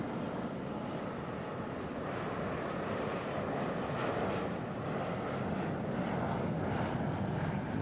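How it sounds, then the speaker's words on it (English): A jet aircraft heading for Miami International Airport, about two miles away, passes close overhead as a broad, steady roar that fills the whole stretch at even loudness. "A jet on its way to Miami International Airport."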